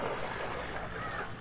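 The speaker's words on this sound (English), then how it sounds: "gentle waves with birds, for example, which has kind of the sound of the waves lapping on the shore with some seagulls" Gentle waves lapping on a shore with seagulls, as a sound effect: a steady, soft wash of water and breezy noise that continues without a break, with no distinct bird calls standing out.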